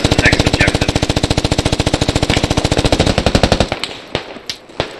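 Sustained heavy automatic gunfire from the military shooter game Squad, a rapid, steady, loud burst of shots lasting several seconds, then a few scattered single shots further off as the firing breaks off.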